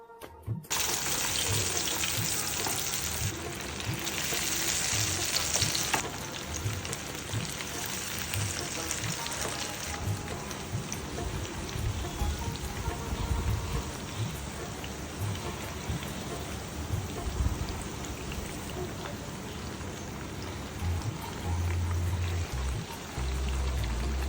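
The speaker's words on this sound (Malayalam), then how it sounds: "എണ്ണ ചൂടാകുമ്പോഴത്തേക്ക് നമുക്ക് ഓരോ പീസ് ചിക്കനായിട്ട് ഇട്ട് കൊടുത്ത് പൊരിച്ചെടുക്കാം" Chicken pieces fry in hot oil in a pan, giving a dense continuous crackle and sizzle that stays fairly even throughout, with a brief louder hiss near the start.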